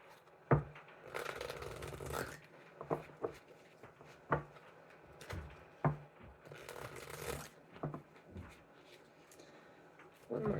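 Tarot cards repeatedly shuffled close up: bursts of papery riffling separated by sharp taps as the deck is squared on a table, recurring irregularly and fairly quiet, with no voices over it.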